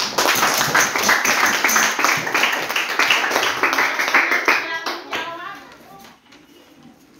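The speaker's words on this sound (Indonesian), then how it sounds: "tepuk tangan buat Anda" A round of clapping rewards a student in a classroom lesson, brisk and dense at first, then thinning and fading out over the last couple of seconds.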